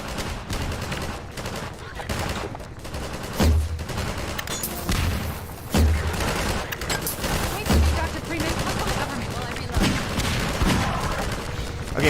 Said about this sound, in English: I'm just going to throw a bunch of grenades through here